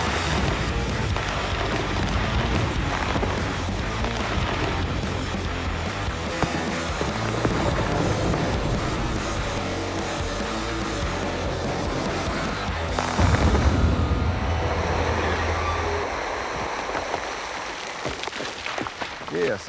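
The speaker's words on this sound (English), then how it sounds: "This will shoot that way and set the blast off." An explosives blast demolishing rock rumbles into a broad roar and loud sustained noise, heard over wind and people talking nearby.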